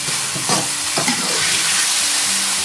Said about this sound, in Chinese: 翻炒5、6、7、8下